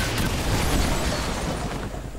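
A grenade blast in the tactical video game XCOM 2 gives a short, dense booming rumble with a crackling tail, heard alone without talk.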